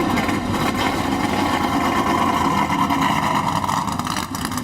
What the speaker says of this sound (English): Great to hear the sound of those engines